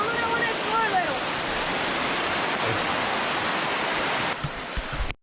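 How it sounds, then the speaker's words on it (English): A waterfall in San Sebastian, Puerto Rico roars as a steady, loud broadband wash of falling water close by. It fills the whole stretch without letting up, with a brief shift in tone just before it cuts off. "This is a different waterfall."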